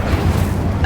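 A low, roaring whoosh of fire from the Incendio spell in Hogwarts Legacy, a loud, steady rumbling burst that fills the moment with a faint tonal ring near the end.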